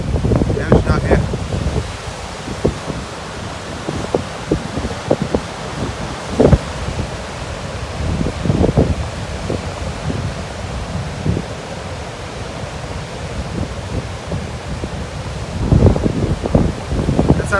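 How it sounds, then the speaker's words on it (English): Ocean waves and wind at a beach at Cape Weligama, Sri Lanka, heard as a broad, steady roar with buffeting gusts on the microphone; the noise is loud and close, with a few low thumps and no clear speech. "The ocean out here."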